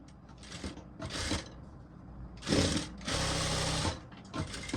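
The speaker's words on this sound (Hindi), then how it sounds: "उससे पहले हम सिलाई लगा लेंगे यहां पर" A sewing machine runs in short bursts while stitching blouse fabric, its motor whirring in two brief runs and then a longer steady run, close and fairly loud, with quiet pauses between runs.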